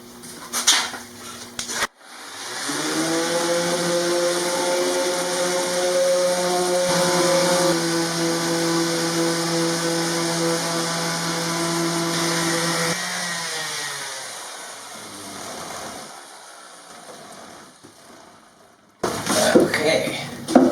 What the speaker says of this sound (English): With the drawer glued together, the bottom, sides, now I need to do some sanding.